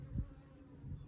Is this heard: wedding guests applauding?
no